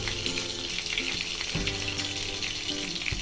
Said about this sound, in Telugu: ఇందులోకి 2 టేబుల్ స్పూన్లు ఆయిల్ వేసి 10 దంచిన వెల్లుల్లి రేఖలు వేసి 2 ఎండుమిర్చిని కూడా చిన్ని వేసుకోవాలి